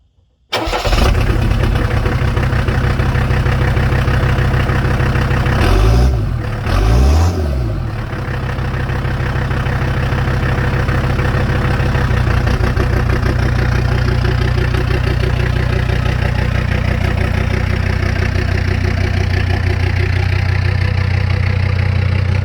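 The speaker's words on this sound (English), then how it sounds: "Let's see what this OM617 turbo sounds like without any sort of exhaust at all" A Mercedes W123 coupe's OM617 turbo diesel engine running with no exhaust fitted cranks and fires, then settles into a loud, steady, clattering idle with a couple of revs early on, alone and close.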